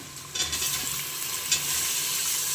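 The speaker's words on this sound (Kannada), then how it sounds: "ಟೊಮೊಟೊ ಹಾಕಿ ಚೆನ್ನಾಗಿ ಹಿಂತಿರಿಸೋಣ" Tomatoes sizzle steadily in hot oil as they are fried for chicken biryani, with a couple of brief stirring clatters near the start and no voices.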